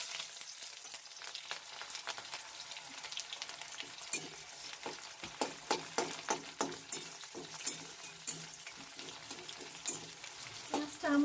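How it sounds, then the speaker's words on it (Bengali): Two small chopped onions fry in oil at close range with a quiet, steady sizzle and crackling pops, heard alone with no talking. "পেঁয়াজটা আমার হালকা ভাজা হয়ে গেছে"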